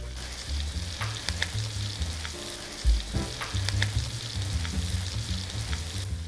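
Red pepper and rice fry in a pan with a steady, close sizzle and crackle, broken by occasional stirring scrapes and clinks throughout.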